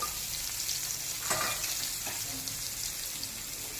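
Capsicum, chili and carrot with onion sautéing over a low flame, a steady soft sizzle with occasional stirring scrapes throughout, close and continuous with no talking.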